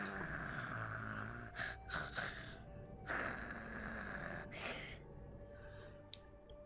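A voice actor imitates snoring for Nahida, a character in Genshin Impact, producing a few separate breathy snorts and gasping inhales with quiet pauses between them.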